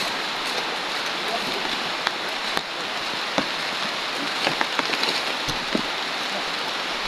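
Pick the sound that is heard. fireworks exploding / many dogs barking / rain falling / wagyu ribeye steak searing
rain falling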